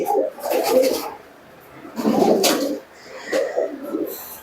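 Giribaz pigeons coo in three rounded, throaty bursts with short pauses between them, close by and fairly loud.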